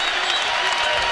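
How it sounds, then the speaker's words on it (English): Arena crowd at a Kansas vs Iowa State college basketball game roaring and applauding after a made three-pointer, a dense, steady wall of cheering and clapping that fills the whole moment. "That gets this crowd going again."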